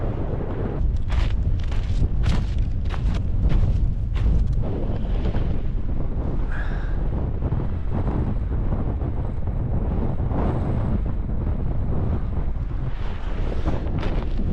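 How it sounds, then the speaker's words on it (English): Strong wind gusts roar steadily across a microphone in cold winter mountains at a solo camp, a continuous loud buffeting rush with no voices. "Breeze has picked up now."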